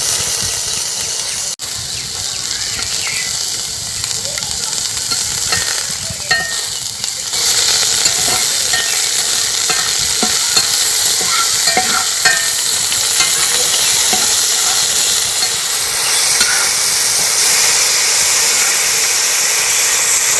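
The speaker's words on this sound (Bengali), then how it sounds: "এইভাবে নাড়াচাড়া করতে করতে টমেটোটা প্রায় গলেই গেছে" Tomatoes, garlic cloves and peanuts fry in a pan for a chutney, giving a loud, constant sizzle and hiss with frequent scraping and knocking from stirring, close up and without talk.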